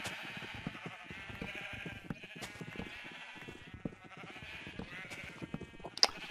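Sheep in the Minecraft video game bleat repeatedly in short, wavering calls that overlap one another, fairly clear and close, with a small sharp click near the end.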